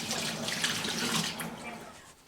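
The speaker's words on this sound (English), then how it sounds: "I'm going to wash my hands and get back to you" Hands being washed under a running kitchen tap, a close, steady splashing stream of water that tapers off at the end.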